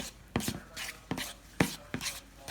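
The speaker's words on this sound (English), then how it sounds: "It takes a little bit to mix the flour into the wet mixture." Flour being worked into a wet cookie-dough mixture in a bowl, heard as four distinct thudding, scraping strokes at a slow, even rhythm, close and moderately loud with quiet gaps between.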